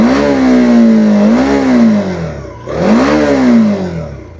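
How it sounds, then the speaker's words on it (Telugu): A TVS Apache RTX motorcycle in neutral revs through its twin-port exhaust, giving two loud, close bursts that climb and fall back, with a brief dip between them and no talking. "సో ఎగ్జాస్ట్ నోట్ కూడా ఒకసారి నేను ఇచ్చేస్తాను మీకు."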